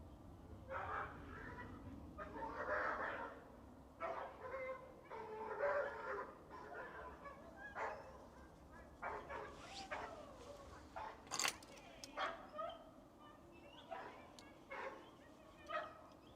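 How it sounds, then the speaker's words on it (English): A dog barks outside a 13th-century church at night, sounding faint and distant. Yips and barks come in irregular bursts, some spaced apart and some clustered, over a quiet background. "That's a dog."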